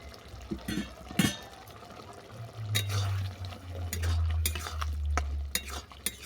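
Ghee-finished bottle gourd stem sukto stirred in a pot, with scraping spoon strokes and soft clinks over a low steady simmer, fairly close and without talk.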